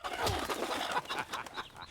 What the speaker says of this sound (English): Kicking chickens.